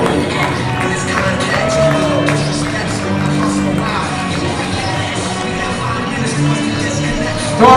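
A high school basketball crowd at a Red Oak Hawks versus Lufkin Panthers playoff game roars and cheers steadily in a big gym, a loud dense wash of voices with shouts and an announcer's voice talking over it.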